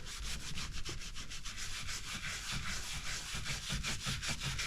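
A towel rubbed back and forth over a car's surface in a garage, fast rhythmic scrubbing strokes, close and steady throughout, with no speech.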